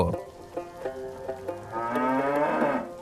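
A cartoon cow moos, first in several short, rhythmic lowing bursts and then in one long, drawn-out moo, clear and alone.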